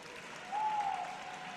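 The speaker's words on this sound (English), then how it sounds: "this crowd is getting into it" A volleyball crowd at a Solano versus LMC college match swells into cheering and applause, a broad wash of noise that rises about halfway through and holds steady at moderate distance.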